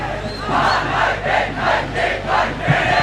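A large crowd gathered at the Hill Country Battle of the Blues cricket match between Trinity College and St. Anthony's, roaring and chanting in rising, rhythmic swells, loud and sustained.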